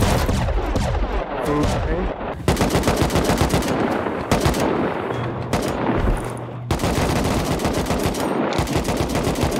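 Rapid automatic gunfire rattles through the Rust video game in dense bursts, loud and close, broken by short pauses, with a brief spoken word in the mix.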